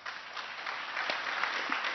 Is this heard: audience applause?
yes